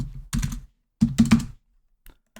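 Computer keyboard typing while numbers are entered into input fields, close and fairly loud, with two quick bursts of clattering keystrokes followed by a single faint tap, no voices.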